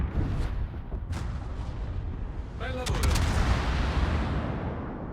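Heavy warship guns boom in a naval video game while playing the Gdansk, deep rumbling salvos with a sharp burst partway through and a sustained roaring tail, close and loud.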